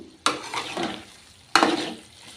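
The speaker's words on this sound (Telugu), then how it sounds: "ఇప్పుడు ఇందులోకి కరివేపాకు ఈ కరివేపాకు వేసుకొని ఇదంతా కూడా ఒకసారి చక్కగా కలుపుకున్నాము" Chicken liver with curry leaves is stirred and fried in a pan, with two distinct scraping stirs, each a loud burst of sizzle that fades away, close and with no talk.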